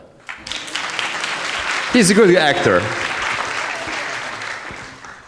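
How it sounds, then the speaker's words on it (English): A conference audience at the Croatian National Theatre in Varaždin applauds for Carlo, steady full applause building and holding, with someone speaking briefly over the clapping. "can I hear one applause for Carlo?"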